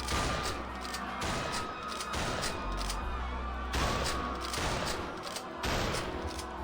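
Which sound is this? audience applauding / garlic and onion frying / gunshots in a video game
gunshots in a video game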